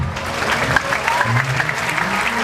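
A church congregation in Gondar bursts into applause during a deliverance service, brief dense clapping with voices mixed in.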